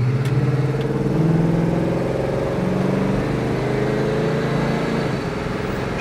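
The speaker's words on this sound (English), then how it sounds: "Car has good pickup." A 1970 Pontiac GTO pulling away from a green light, its engine droning and climbing steadily in pitch as it accelerates, heard from inside the car with no talk.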